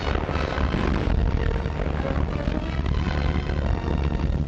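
Military aircraft fly overhead during the August 1944 Allied landing in Provence, a dense continuous propeller-engine roar that stays loud and steady throughout.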